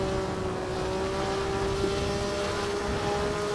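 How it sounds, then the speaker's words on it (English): Constant wind rushing past the open cockpit of a 1957 Formula 1 car at Monza in a racing game, a loud steady roar under a droning engine tone with no talk. "Listen to that wind."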